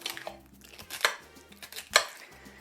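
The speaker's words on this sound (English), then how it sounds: "we're going to go ahead and just chop these babies up" A knife chops through three celery stalks on a cutting board, giving a few sharp, close cuts with quiet pauses between them and no talking.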